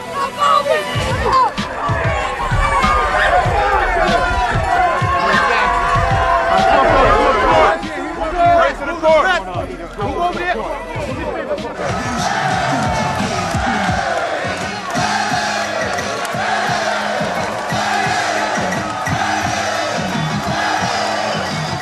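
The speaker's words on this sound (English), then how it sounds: "the crowd was just all amped, they was yelling and screaming" A loud crowd yells and screams excitedly, a dense roar of voices with whoops and shouts rising and falling throughout.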